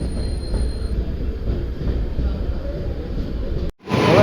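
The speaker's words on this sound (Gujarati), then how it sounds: "હવે આવી આપણી ટ્રેન" Train pulling into Jabalpur railway station platform, a loud steady rumble of wheels and wagons rolling past close by, ending in a brief abrupt break.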